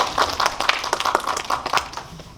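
An audience at an indie cinema post-screening talk claps, a moderate run of distinct, uneven claps from a small crowd that thins out toward the end.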